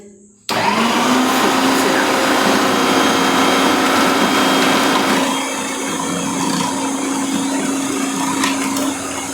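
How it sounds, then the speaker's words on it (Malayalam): An electric mixer grinder chops onions with a loud, steady motor whine that starts abruptly and runs continuously, its pitch and load shifting partway through. "ഇതിട്ടിട്ടൊന്ന് പ്രസ് ചെയ്യാം മിക്സിൽ"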